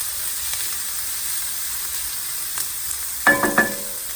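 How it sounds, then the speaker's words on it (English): Onion sizzles in a pan with curry leaves for Indian dal, a constant soft hiss with faint clicks, then a cluster of louder scraping stirs near the end; nobody talks. "Gonna throw our half an onion. Give that a stir."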